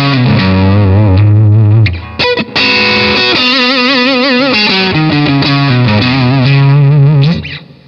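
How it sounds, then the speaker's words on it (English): Electric guitar through a 1960s Gibson Minuteman amp with overdrive, reverb, delay and compression, playing sustained chords and bending notes, loud and full with echoing tails, a short gap midway. "we add a little bit of reverb, a splash of delay, an overdrive, a little compression"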